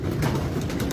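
Pigeons at a Khokhar pigeon club in Pakistan, prize-winning racing birds gathered on a roost; a low, continuous murmur of cooing and wing shuffling, fairly close and steady throughout.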